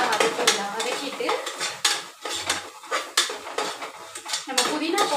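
A spoon clanks and scrapes in a metal pot as mint and coriander are stirred and sautéed for chicken biryani, with repeated metallic clatters and a faint sizzle underneath.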